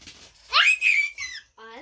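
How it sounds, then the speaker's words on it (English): A young girl lets out a shrill, rising screech while coloring indoors, a short piercing cry broken into a few bursts that ends with a brief squeal. "I think she's just screeching."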